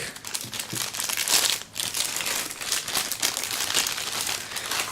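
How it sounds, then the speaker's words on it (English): Plastic wrapping on a PlayStation Move controller is ripped and crumpled by hand, a continuous close crinkling and tearing that lasts several seconds with no talk. "Go ahead and rip the plastic."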